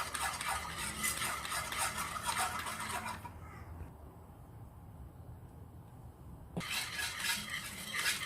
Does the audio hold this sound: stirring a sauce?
yes